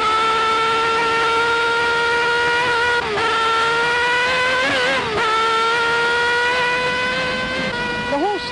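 A 1973 Marlboro Iso IR2 Formula 1 car accelerates out of the Nordschleife Carousel, its high-pitched engine wailing steadily with brief dips at gear changes, loud and sustained, a voice speaking over it.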